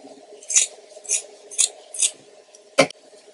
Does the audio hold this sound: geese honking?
no